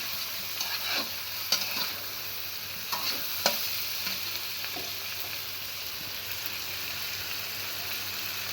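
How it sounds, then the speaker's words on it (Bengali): Hilsa fish head stir-fried in a pan gives a constant close sizzle with occasional scraping clicks of the spatula, fairly quiet and with no talking. "তো এটাকে আমি এখন ভালো করে কষিয়ে নেবো মাথাটা যেহেতু একটু শক্ত এই জন্য মাথা আমি আগেই দিয়ে দিলাম"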